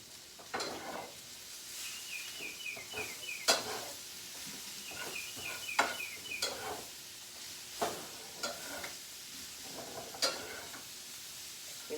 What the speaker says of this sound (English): Let me get it stirred up in there.